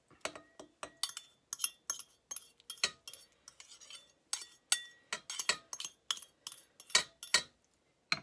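A utensil scrapes and clinks against a bowl while potato and onion fritter batter is mixed, a rapid run of sharp taps and scrapes up close with short pauses between strokes, no talking.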